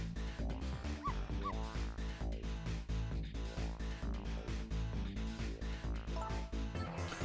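In the Ghost Trick: Phantom Detective video game, a dog yips and whimpers in short bursts over loud, continuous background music.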